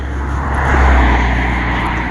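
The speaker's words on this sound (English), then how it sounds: "that dumbass plane, and it'll just keep circling my ass and circling and circling" A Cessna light airplane circles overhead, its engine drone loud and steady throughout the brief stretch, swelling slightly midway, with no voices.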